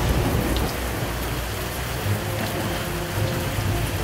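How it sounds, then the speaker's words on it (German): Steady heavy rain pours in a toy pirate adventure storm, a dense continuous hiss with low rumbles of thunder underneath, loud and unbroken throughout. "Ein Sturm zieht auf."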